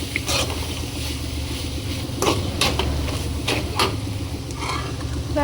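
A spoon stirs amaranth leaf fry with fried peanuts in a pan, with several sharp metallic scrapes and clinks over a soft low sizzle and background hum.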